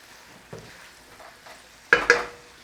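Capers and olives get stirred in a cooking pan over low heat. There is a soft scrape, a couple of faint touches, then two sharper clinks of utensil on pan close by over a quiet sizzle, with no talking.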